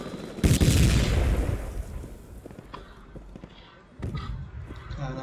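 Gunfire in the video game Project Reality, with a loud blast followed by scattered shots and a rumbling decay, then further cracks later, while players talk over it.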